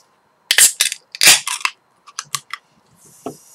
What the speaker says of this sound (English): Now let's flip top this can and see what we got